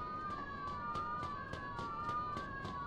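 Police sirens wailing in Mafia II, a steady wavering siren tone with a rhythmic pulsing pattern repeating about every third of a second, continuous and fairly prominent throughout.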